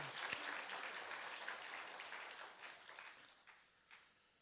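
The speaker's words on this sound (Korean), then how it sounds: "우리 하나님 앞에 감사 박수하겠습니다." A church congregation's thankful applause, fairly faint clapping that starts fuller and gradually thins into scattered claps with a few sharper ones near the end.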